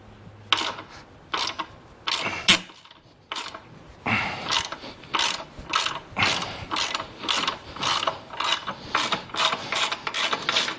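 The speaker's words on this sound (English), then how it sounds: "So I need our T40 socket again. We're going to remove this bolt." A T40 socket ratchet backs out a clamp bolt on a Harley-Davidson 2022 CVO suspension mount, giving a rapid run of sharp, close ratcheting clicks in rhythmic bursts, with brief pauses between strokes and no talking.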